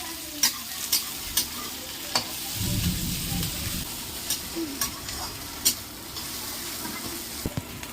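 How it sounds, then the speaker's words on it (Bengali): Green chili and fish go into onions already frying in a pan, bringing a brief swell of sizzling amid a steady hiss and regular clicks of stirring. "পেঁয়াজ এক মিনিট মতন একটু ভেজে নিয়েছি এখন এই লঙ্কা এই মাছটা দিয়ে দেবো"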